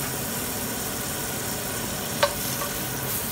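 Butter sizzles steadily in a frying pan alongside rollmop herring, a continuous broadband hiss with a single brief sharp crackle partway through.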